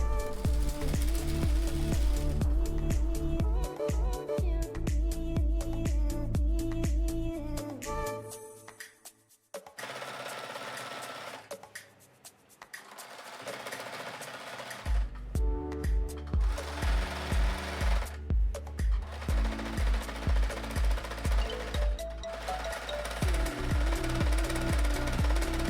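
A sewing machine runs a seam down a velvet skirt from waist to knee, its fast rhythmic needle chatter loud and close, pausing briefly midway before resuming in steady bursts.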